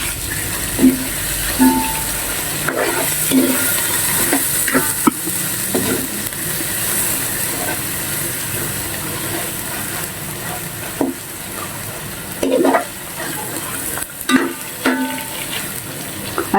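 Chili, ginger and spices fry in oil, a steady hiss of sizzling with occasional stirring clinks and scrapes of a utensil against the pan throughout.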